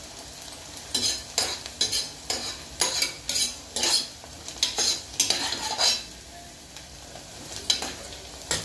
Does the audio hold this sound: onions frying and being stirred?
yes